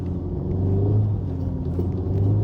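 A 2024 Acura Integra Type S engine drones steadily while the car accelerates and brakes on snow with Michelin X-Ice tires, a loud low rumble with a slight pitch rise, heard from inside the cabin.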